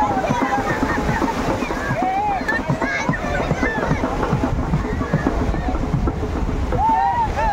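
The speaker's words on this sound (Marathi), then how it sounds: "लाटा या येत आहेत ज्या आपल्याला पाहायला मिळत आहेत." Sea waves wash against the shore at a Narli Pournima festival in Mulgaon Koliwada, a continuous near rush of surf and wind mixed with a busy crowd of voices and shouts.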